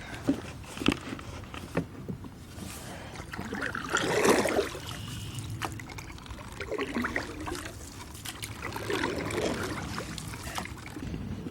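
A canoe glides over calm, flowing water, with soft paddle strokes dipping and swishing at a slow, uneven rhythm against a constant light trickle and patter close by.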